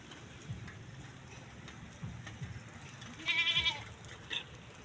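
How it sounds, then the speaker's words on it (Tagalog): A single brief goat bleat, fairly faint, sounds against a soft outdoor background with a patter like light rain. "Nakita ang kambing ah"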